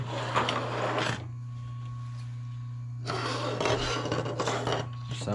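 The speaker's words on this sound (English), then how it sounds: "So I'm going to start off with deburring all these parts." 3D printed plastic parts for a 16-round Nerf Rival magazine are deburred by hand in two bursts of close, dry rasping and scraping, separated by a quiet pause, with no talking.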